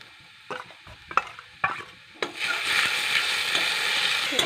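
Garlic paste stirred into fried onions in a pan: a few close scraping strokes of a spoon, then a steady, bright sizzle as the paste hits the hot oil.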